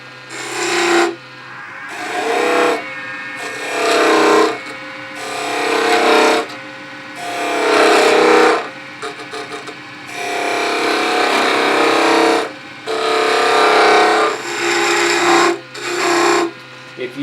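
A skew chisel cuts V-grooves into a spinning workpiece on a wood lathe, producing repeated loud scraping, rasping bursts of a second or two each, separated by brief pauses while the lathe hums underneath.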